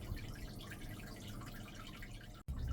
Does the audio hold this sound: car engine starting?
no